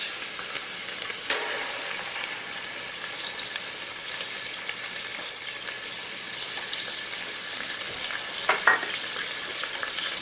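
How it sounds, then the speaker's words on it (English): Tomato paste frying in a pan for keema saltsa gives a steady, close hiss of sizzling that runs the whole time, with a couple of brief scraping knocks from stirring. "And you want to fry off the tomato paste a little bit"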